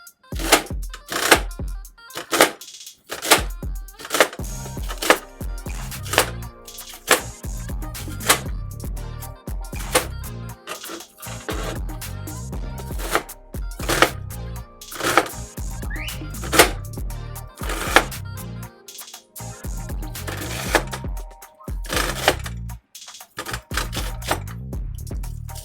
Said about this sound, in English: Okay, so my onion is chopped up there.